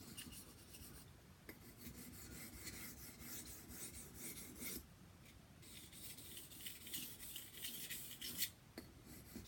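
A kitchen knife's edge is worked against a whetstone in steady, close rasping strokes that run almost continuously, with brief pauses between passes and no talking.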